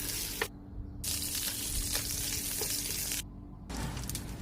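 Chicken fat fries on low heat to render its oil, a continuous close sizzle and crackle that cuts out abruptly twice before resuming.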